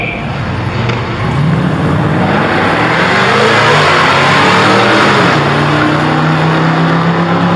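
A turbocharged LS-swapped Grumman LLV postal truck engine revs loudly and steadily at an LS Fest car show, a dense continuous roar with faint crowd noise around it.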